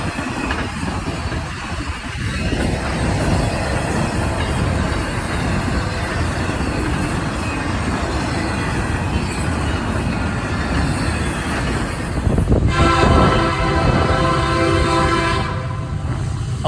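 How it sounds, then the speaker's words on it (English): Norfolk Southern NS-20K priority intermodal freight train rolling through Porter Junction near Chesterton, Indiana, a steady loud rumble of cars and wheels throughout, with horn-like tonal bands rising near the end. "The first train when we got to Porter Junction, Indiana, just west of Chesterton, would be NS-20K, a priority intermodal train"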